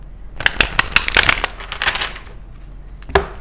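A deck of Wisdom of the Oracle cards is shuffled by hand: a quick run of crisp, papery riffles and flutters up close, easing off, then one final sharp snap of cards.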